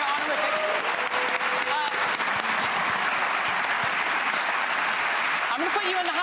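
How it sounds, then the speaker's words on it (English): Audience at a televised town hall on racial healing breaks into loud, sustained applause that runs dense and unbroken for several seconds, with a voice briefly audible over the clapping. "Give them all a round of applause."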